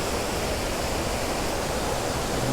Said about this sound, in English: very rarely visited waterfall